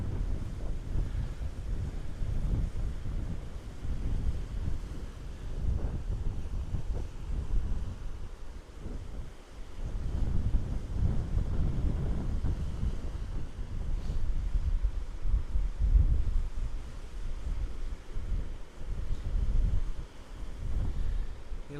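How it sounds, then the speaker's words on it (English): Gusty wind buffets the microphone at a beach where surfers are out, a steady low roar with swelling gusts and distant surf underneath, with no voices throughout. "that wind's blowing the tripod around."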